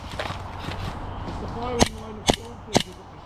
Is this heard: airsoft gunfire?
yes